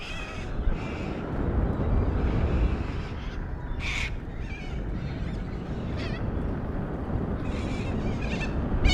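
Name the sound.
birds calling outdoors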